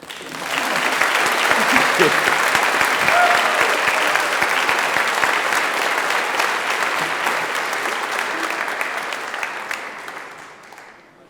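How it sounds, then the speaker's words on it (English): Audience at an awards ceremony bursts into applause, rising quickly to a full, loud round of many hands that holds for several seconds before tapering off at the end. "We have a big round of applause for Mark."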